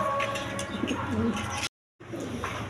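Pigeons coo close by in a pen where Maltese and other fancy pigeons are sold, several soft throaty calls over a continuous background hum, with a brief dropout partway through.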